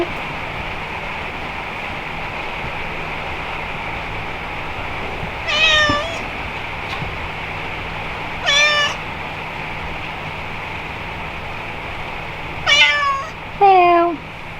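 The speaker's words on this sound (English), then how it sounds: "say hello to the cat." A cat meows four times on a farm in Portugal, spaced apart over a quiet background hum, the last two calls coming close together.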